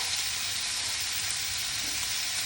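Chicken and ham stir-frying for pineapple fried rice, a steady bright hiss of sizzling close up, even and unbroken for the whole stretch.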